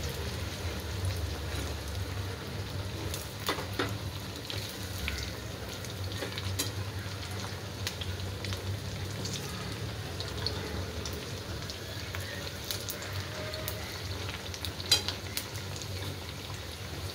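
Sabudana vada fry in hot oil, giving a continuous crackling sizzle throughout with occasional small pops, close and steady.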